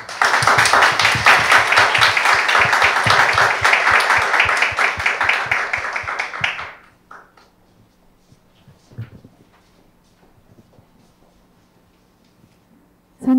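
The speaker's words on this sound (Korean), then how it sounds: "큰 박수 부탁드립니다" Loud, dense clapping from an audience at a startup award ceremony greets the winning team, sustained for several seconds before fading out abruptly into near silence with a few faint knocks.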